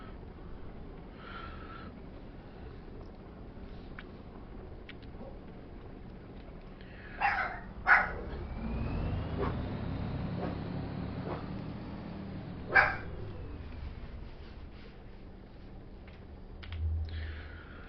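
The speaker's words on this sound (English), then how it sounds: "The Chihuahua's been having himself a great day today, so you've probably heard him barking here in the background" A small Chihuahua barks a few sharp times in the background over steady low machine rumble, with a quiet stretch between the yaps.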